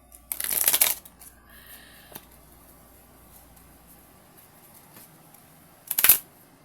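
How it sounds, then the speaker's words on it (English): Two short, crisp bursts of tarot cards being riffled on a lap, one at the start and one near the end, with faint handling sounds between in a quiet room. "Let me shuffle it."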